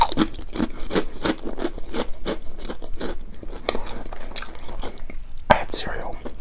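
Close-miked, rhythmic chewing of Domino's garlic parmesan pan pizza, with soft repeated bites and mouth sounds, quiet and steady, under a faint murmured voice.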